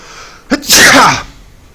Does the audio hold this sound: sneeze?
yes